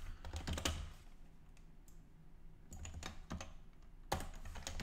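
Typing on a computer keyboard comes through as quick bursts of close, crisp key clicks with short pauses between runs, fairly quiet and with no voices.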